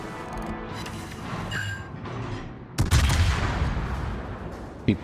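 Cannon fire from the cruiser Buffalo in a naval warfare video game, a burst of loud booming shots with a heavy blast near the three-second mark and another sharp report near the end, over continuous battle rumble.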